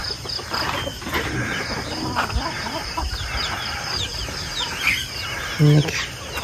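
Chickens cluck and chirp busily together at close range while feeding, a constant scratchy farmyard chatter with a few sharper calls.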